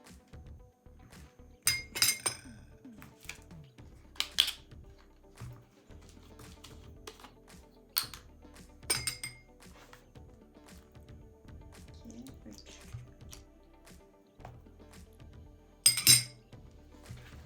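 Batter of eggs, oil and milk for a syrup-soaked three-spoon dessert being stirred, with scattered sharp clinks and taps of a utensil against a bowl over a quiet background.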